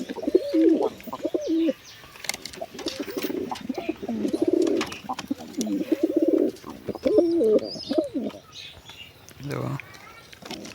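Pigeons coo in repeated soft, throaty bursts close by, with brief chirps and a moment of wing flapping, while a person talks over them at times.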